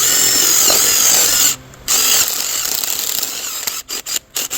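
A power drill whines loudly and close up as it enlarges bolt holes on an old two-stroke outboard motor, running steadily, pausing once, then cutting out in several short stop-start bursts at the end.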